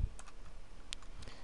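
A few quiet, crisp keyboard key clicks while a computer shortcut is pressed, spaced irregularly across a short moment, close and alone without speech.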